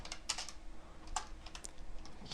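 Computer keyboard typing in short irregular bursts of clicky keystrokes, fairly close and moderately quiet, with no talking.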